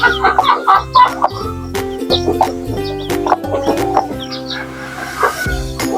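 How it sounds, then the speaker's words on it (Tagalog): Chickens and chicks cluck and peep around a backyard, with repeated close hen clucks and a brief crow over steady farmyard chatter. "Ito, daming sisiw"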